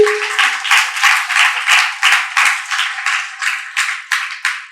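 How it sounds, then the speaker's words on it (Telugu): A church congregation claps hands in a steady, rhythmic beat, about a dozen loud, close claps in unison with no talking over them. "చప్పట్లు కొట్టండి ఒకసారి"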